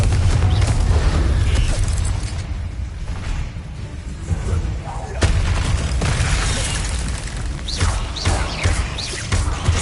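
Confringo fire-blast spell cast repeatedly in the video game Hogwarts Legacy, producing loud booming impacts and crashing bursts over a dense, continuous wash of game effects and music, with a voice calling out spells.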